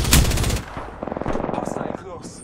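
Gunfire in the battle-royale shooter Apex Legends: a loud close shot opens, followed by a rapid automatic burst of repeated shots and fainter distant fire.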